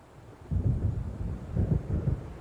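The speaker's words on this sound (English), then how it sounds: "It seems there's a storm coming." Thunder from a coming storm over the water in Alan Wake, heard as two deep rolling rumbles in close succession, heavy and low, over a faint windy background.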